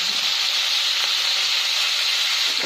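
Green chillies fry in hot oil with mustard seeds and cumin, giving an intense, steady, close sizzling hiss that stays constant and loud without pause.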